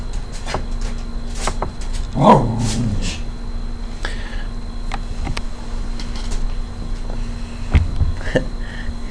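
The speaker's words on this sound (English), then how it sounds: "You can hear my lovely dog in the background." A dog barks once in the background, with a few faint yips and whimpers scattered around it over a steady low hum.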